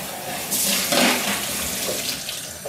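Parts of a Severin ES3567 slow juicer rinsed under running tap water, a loud, close, continuous splashing rush that swells and ebbs slightly.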